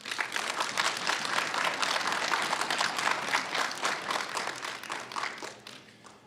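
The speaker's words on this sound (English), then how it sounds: "give yourselves a round of applause" Steady applause from a seated audience at a spring nursing school convocation, dense clapping sustained at even loudness before fading slightly at the end.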